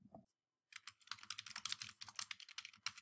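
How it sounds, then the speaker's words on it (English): Fingers type a search keyword on a computer keyboard, a rapid run of soft, close key clicks after a brief pause, fairly quiet overall. "To conduct a search for a book in the catalog, enter a keyword or phrase into this search box."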